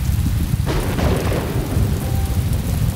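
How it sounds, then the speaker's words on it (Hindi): Steady rain pours down while a deep roll of thunder rumbles through, loud and close, with no voices. "मेरा बस चले तो इस बारिश को मैं कई घंटों तक खड़ा हुआ देख सकता"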